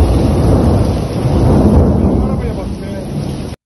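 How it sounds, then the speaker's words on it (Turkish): Thunderstorm with heavy rain and hail over the town of Tavşanlı, heard as a dense, steady roar of downpour with low thunder rumble running through the whole stretch, fairly loud and continuous with no voices. "gök gürültülü sağanak ve dolu yağışı"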